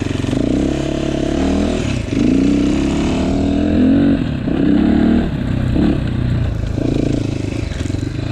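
A GPX Moto FSE300R enduro motorcycle rides loud and close along a tight woods single track, its engine droning and surging in uneven bursts as the throttle opens and eases off.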